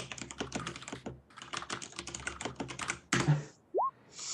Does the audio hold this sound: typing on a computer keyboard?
yes